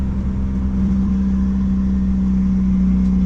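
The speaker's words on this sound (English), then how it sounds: "So the car is pretty much getting warmed up." A turbocharged Honda Accord engine idles while warming up before tuning, a steady, close, droning hum with a constant low tone and no revving.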